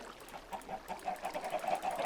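Chickens in the video game Minecraft cluck softly in a repeating pattern, with no voices.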